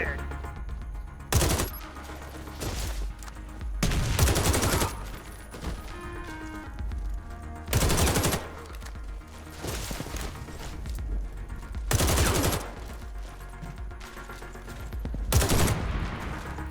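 In the video game Warface, an M4A1 Custom rifle fires five loud bursts of rapid shots at spaced intervals. Quieter clicks and handling noises sound between the bursts.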